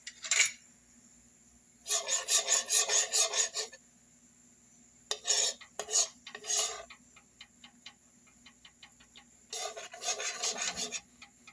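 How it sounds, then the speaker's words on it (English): Sugar caramelizing in a pot for Trinidadian vegetable pelau rice, heard as several close, rasping, scraping bursts in uneven groups with quiet gaps between them and no talking. "Here I have my sugar caramelizing for my rice"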